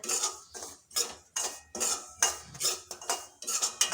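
Semolina is dry-roasted in a pan over medium heat and stirred with a spoon, giving a quick, steady rhythm of scraping, clinking strokes about twice a second, fairly close and with no talking.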